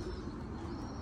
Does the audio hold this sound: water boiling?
no